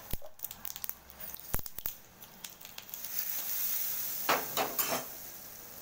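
Mustard seeds and urad dal hitting hot oil for a South Indian tempering, scattered sharp crackles and pops building into a soft sizzle, with a couple of louder bursts of spattering toward the end.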